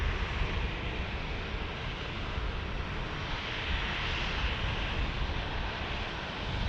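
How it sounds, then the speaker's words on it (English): A Southwest Airlines Boeing 737-700 departs in a continuous, loud, broadband jet engine roar that holds steady throughout, with no talking. "we got a departure, Southwest Airlines, 737-700"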